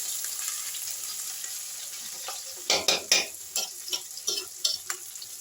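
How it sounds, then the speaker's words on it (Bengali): Ginger paste with spices fries in a pan with a steady sizzle, then a spatula stirs it with a run of sharp scraping knocks against the metal, close and clear. "এই মশলাটা একটু ভালো করে কষে নিচ্ছি।"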